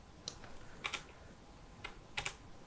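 A handful of crisp, close key presses on a computer keyboard during video editing in Premiere Pro, with single and doubled taps spaced by quiet gaps.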